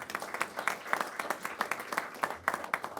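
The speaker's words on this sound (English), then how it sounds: "So let's give a round of applause to Mayor Adams." Applause for Mayor Adams at a press event with Governor Hochul, a continuous crowd clapping at moderate volume for about three seconds.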